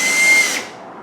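A power drill whirs loudly as it drives a screw into a secured wooden board through a Harbor Freight pocket hole jig, the motor's whine holding for about half a second before winding down and fading.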